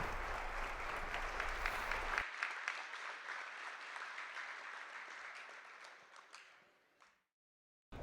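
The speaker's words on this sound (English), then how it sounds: "Let's have a big round of applause for the work of this outstanding organization" Audience applause for the YMCA organization at a high school wrestling event, a steady wash of clapping throughout that fades and stops near the end, with no talking.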